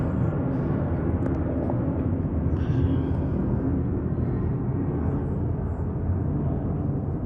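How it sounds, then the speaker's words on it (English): A steady broadband roar of an airplane passing overhead fills the whole stretch, loud and constant with no voices. "excuse me, let this plane go over."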